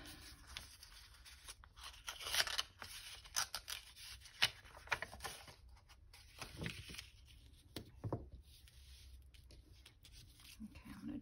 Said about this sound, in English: I'm gonna try to trim around this a little bit on this side so it will fit on the paper